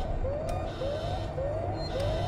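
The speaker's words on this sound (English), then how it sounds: "I don't like all this, all these sirens, man." Wailing alarm sirens in the video game Alien: Isolation rise repeatedly in a steady cycle of four upward sweeps over a low rumbling background, moderately loud, with no talking.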